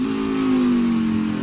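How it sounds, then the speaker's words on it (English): A NASCAR Xfinity stock car engine at Indianapolis, a steady loud mid-pitched drone holding close through the short stretch, shifting tone slightly as the driver works the gears into the final corners. "Hear him downshifting the final few corners here at Indianapolis."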